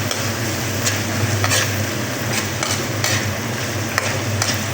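Steady loud sizzle of sautéing in oil in a pan, with ginger cooking and occasional faint stirring scrapes, continuous and close with no talk.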